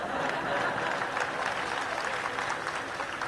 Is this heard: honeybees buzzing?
no